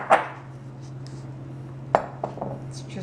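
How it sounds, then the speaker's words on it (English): A few sharp utensil clinks against a bowl, spaced apart with a quiet low hum between them, as wet ingredients for low-fat vegan cupcakes are mixed. "Now we're going to mix our wet ingredients."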